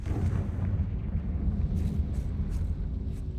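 A Confringo fire spell in Hogwarts Legacy bursts into a loud, rumbling explosion that rolls on for a few seconds, dense and close, with no talking over it.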